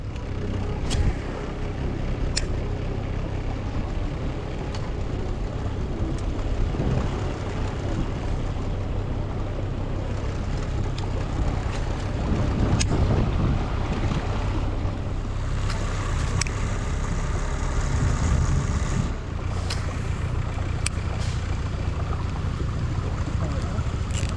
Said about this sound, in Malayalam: ബോട്ട് ഓടിക്കുന്നുണ്ട് കേട്ടോ നമ്മൾ സ്ലോ സ്പീഡിലാണ് പോകുന്നത്